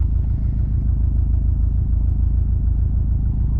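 A Subaru STI engine runs at a rough, uneven idle just after starting, a loud low rumble with a pulsing, lumpy beat and no voices over it.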